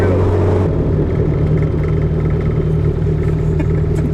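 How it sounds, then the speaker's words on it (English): The turbocharged B20B engine swapped into a 1995 Honda Civic EJ coupe rumbles loud and close with a steady low drone and a whirring turbo note, while voices talk faintly underneath. "the funny thing is that the turbo is louder than the freaking blow-off valve"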